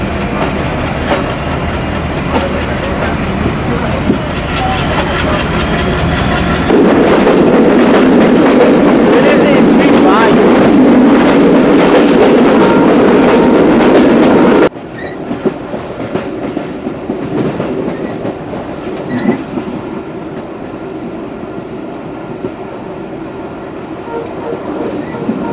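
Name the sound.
passenger train running after leaving Daulatpur station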